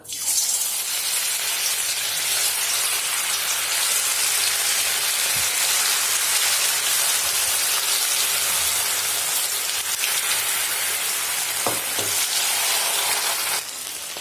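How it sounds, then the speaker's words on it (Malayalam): Chicken pieces for crispy chilli chicken deep-fry in hot oil in a kadai, giving a steady, loud, dense sizzle like heavy rain, with a few faint clicks of stirring. "ഇതിലേക്ക് ചിക്കൻ കഷ്ണങ്ങൾ ചേർത്ത് ഫ്രൈ ചെയ്തെടുക്കാം."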